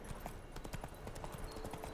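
Hoofbeats of the horse Roach in The Witcher 3: Wild Hunt, a fast, even clip-clop gallop heard faintly at steady pace, with game ambience underneath and no clear talk.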